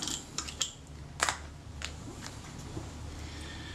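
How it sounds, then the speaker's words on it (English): Screws being taken out of the tripod sockets of a Retina IIa camera: faint, sparse metallic clicks and small creaks at close range over a quiet background. "Just take two screws out of the tripod sockets"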